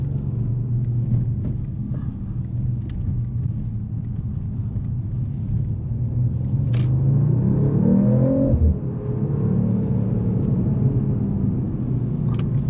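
A 2024 Mercedes-AMG CLE 53 Coupe engine rumbles deeply nearby, swelling into a brief rev around the middle before settling back to a steady growl.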